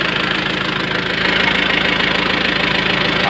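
An Isuzu diesel engine with a new fuel filter and fresh diesel idles close by with a steady knocking rumble and even rhythmic clatter, no voices.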